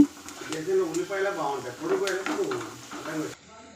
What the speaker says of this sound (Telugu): నేను ఇప్పుడు దీంట్లో కొంచెం పసుపు వేసుకొని కలుపుకుంటున్నాను